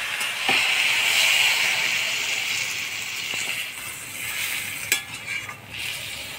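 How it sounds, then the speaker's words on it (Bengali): A little water poured into vegetables frying in a pan for Bengali pui shak chorchori sets off a loud, close, steady sizzle and hiss, with a few sharp clicks of a utensil. "এবার অল্প জল দিয়ে দিই"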